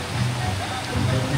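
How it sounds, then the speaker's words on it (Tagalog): Steady rain pours down in a mountain area in a dense, loud hiss, continuous and close, with no pauses. "Umuulan!"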